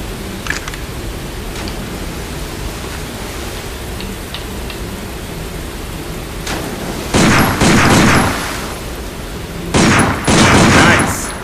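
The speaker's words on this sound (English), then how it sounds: "Take out your handgun and try shooting that sign." Two quick bursts of handgun fire at a sign in the shooter Binary Domain, loud and close, each a clustered volley over a steady background hum.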